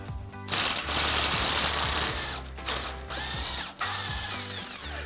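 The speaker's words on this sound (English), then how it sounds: "We'll just get our 21 millimeter socket on the front and remove our bolt." Power tool spinning a 21 mm socket to remove a front bolt on a Jeep Gladiator JT during a leveling kit install, a loud continuous whirring drone with brief pauses and restarts, close up with no talk.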